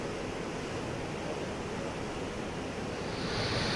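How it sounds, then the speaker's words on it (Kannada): Water floods through the 22 open gates of the Tunga reservoir in Shivamogga, about 24,000 cusecs of it, a loud, unbroken broadband roar that swells slightly toward the end. "ಒಂಥರ ನೀರು ಹಾಲಿನ ನೊರೆ ಥರ ಹೋಗ್ತಾ ಇದೆ"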